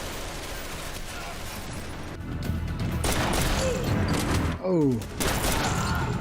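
Gunfire in a tense action scene from the TV series Reacher: a dense, loud barrage of shots and crashes over a dramatic score, with a brief exclamation from a viewer.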